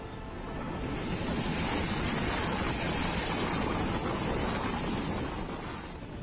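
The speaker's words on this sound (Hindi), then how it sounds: "ये शोर, ये उफनती लहरें चीख चीख कर कह रही हैं कि सावधान हो जाओ" Roaring, surging sea waves whipped up by Cyclone Sitrang off Bangladesh, a loud continuous broadband crash and rumble that swells in and holds steady for several seconds with no voices.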